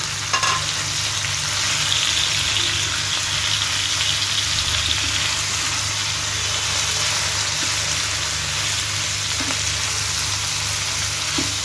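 Grated raw radish frying in a pan, giving a steady, dense, loud sizzle that holds evenly throughout with faint stirring underneath and no voices.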